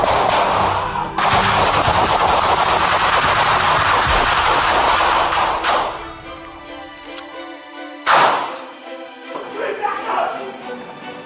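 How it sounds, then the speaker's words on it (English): A rapid storm of gunfire in a store's narrow aisles, with dense bursts of overlapping shots, then a pause and a sharp loud crack with scattered follow-up sounds, close and intense. "A storm of gunfire erupts in the narrow aisles."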